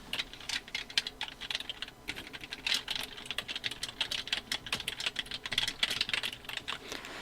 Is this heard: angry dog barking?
no